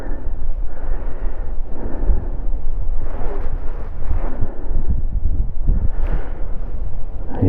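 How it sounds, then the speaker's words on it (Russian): Strong, gusting wind roars and buffets the microphone on a frozen lake during winter ice fishing, with heavy low rumbling that swells and eases in waves and never lets up. "Ветрище сегодня еще такой."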